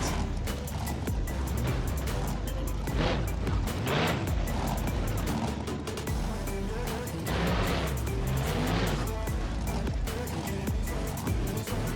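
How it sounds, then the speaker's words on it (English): Monster truck in the BeamNG driving game, its engine droning steadily and loudly throughout with rising and falling revs as it drives over terrain. "Once we get the back of the monster truck down, we'll be able to drive right over the property and squash it flat."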